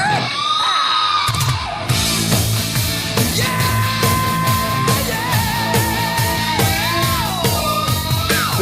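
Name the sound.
Singer's scream opening an album recording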